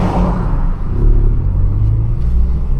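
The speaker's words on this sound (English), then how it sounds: "Hear the hole in the exhaust." A car's exhaust, which has a hole in it, rumbles loudly and close by, a steady low, throaty drone that swells slightly as the engine revs.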